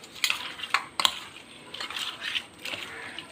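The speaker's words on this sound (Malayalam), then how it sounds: "ഇനി അത് നന്നായിട്ട് എല്ലാം കൂടെ ഒന്ന് മിക്സാക്കി" Beef biryani is stirred in a pot with lemon juice, fried onion and tomato, giving a few quiet metallic clinks of a spoon and soft scraping at an uneven rhythm.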